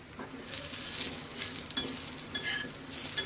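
A spice mix with cumin and coriander roasts in a pan with a close, steady crackling sizzle and a few scraping stirs, running evenly through the short clip with no voices.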